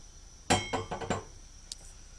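Sugar poured from a glass or metal container into a pot of plum sauce with water, producing a short run of clinks and granular rattles lasting about half a second, followed by a faint tap.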